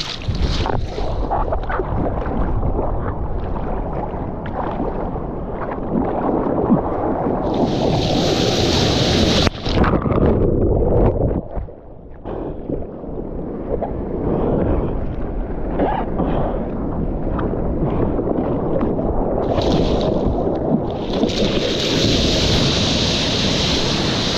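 Ocean surf recorded while riding a Decathlon Olaian 7'8" foam surfboard, with loud, continuous rushing water and wind buffeting the microphone, a wave surging in, and brief hissing bursts of spray.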